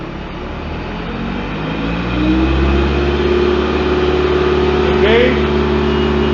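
PRINOTH machine engine revving all the way up while its hydraulic system sits near 6,000 PSI, a loud close engine that climbs steadily in pitch and holds at high revs, with a brief spoken word over it.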